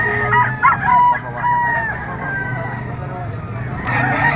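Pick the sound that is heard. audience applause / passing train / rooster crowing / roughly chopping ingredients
rooster crowing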